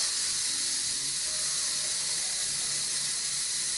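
Constant hot steam hisses out of an Instant Pot's pressure release, a close, loud and steady rush with no other sounds and no pauses.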